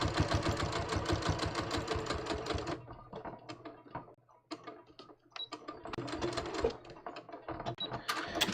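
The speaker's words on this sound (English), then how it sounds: "I'm going to just stitch along the top." A sewing machine stitches along the top of double-faced linen knit shorts, a dense run of rapid needle strokes for the first few seconds, then shorter stop-start bursts with pauses, close and moderately loud.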